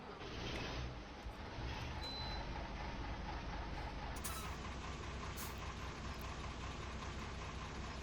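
A steady, low Fendt Favorit tractor engine in a video game mod drones continuously at an even level, with a faint whine and a couple of brief hissing bursts on top.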